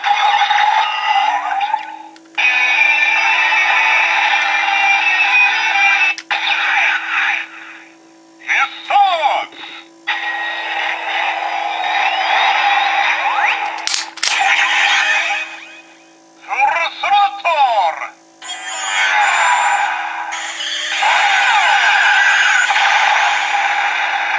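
Electronic sound effects from a DX Shift Tridoron toy from Kamen Rider Drive playing its Hisatsu full throttle finisher: loud bursts of synthesized voice, music and engine-like effects in several segments, separated by short gaps.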